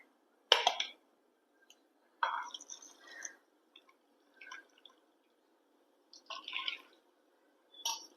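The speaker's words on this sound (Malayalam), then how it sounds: "മീൻ കറിക്കുള്ളത് നമ്മൾ അരച്ചെടുത്ത അരപ്പ് ഇതിലേക്ക് ഒഴിച്ചു കൊടുക്കുക" Thick ground masala paste for a Kerala fish curry being poured into the pot, landing in a handful of close, wet plops and splats separated by short silences.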